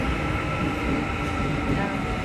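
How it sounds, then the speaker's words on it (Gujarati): Train pulling into Ansan station in Korea, a loud steady rumble of wheels and carriage noise close by with faint voices under it. "આ છે આનસાન સ્ટેશન અને અમારી ટ્રેન ફૂલ તૈયારી છે."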